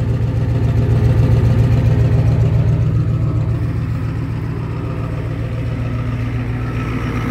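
A Ford F250 pickup with a 7.3 IDI diesel engine idles steadily and loudly close by, a deep, even rumbling clatter that holds without pauses.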